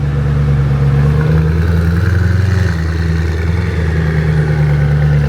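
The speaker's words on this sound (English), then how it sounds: "The turbo's whistling inside of the facility" A Koenigsegg Agera RS supercar runs inside an indoor storage facility, its turbo whistling over a steady, loud engine drone that holds continuously without pause.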